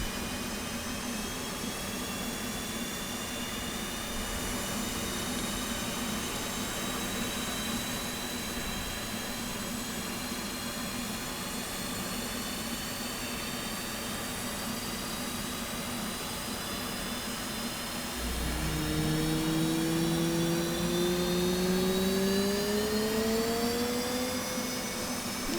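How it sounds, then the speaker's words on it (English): The right jet engine of an F/A-18 Hornet spools up in the DCS World flight simulator, a steady loud whine and rumble that rises in pitch as the turbine accelerates near the end. "So go ahead and crank the right engine."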